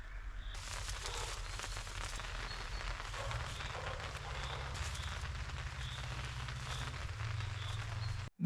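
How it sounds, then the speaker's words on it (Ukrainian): Rain falls on a forest by a river during a thunderstorm, a dense, continuous hiss that holds at an even level, with a low steady hum beneath it. "бо думаю, що цей дощ буде короткочасний"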